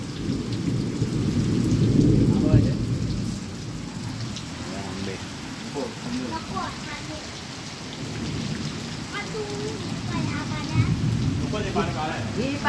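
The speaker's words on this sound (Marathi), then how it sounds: "जोरदार मित्रांनो पावसाने हजेरी लावली आमच्या कोकणात विजांचा कडकडाट" Heavy monsoon rain pours steadily in coastal Konkan, Maharashtra, with deep rolling thunder swelling near the start and returning later, the downpour loud and continuous while a voice speaks faintly underneath.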